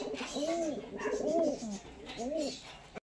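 Pigeons, including Chotiyal birds, coo in a series of three or four soft, rising-and-falling calls close by, with a faint voice murmuring underneath.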